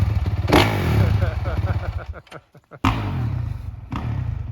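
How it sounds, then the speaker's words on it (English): A Honda 450R dirt bike engine runs with a steady, close throb that briefly drops out midway before picking back up, with voices faintly in the background. "gonna take the new dirt bike up Camelback"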